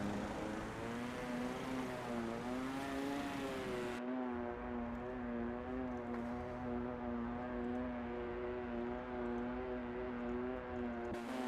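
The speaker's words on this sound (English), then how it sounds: "damn jet engines, man" Loud jet engines of an aircraft in the game Drone Age drone on steadily with a strong, slowly wavering tonal whine that shifts slightly in pitch, continuous and alone.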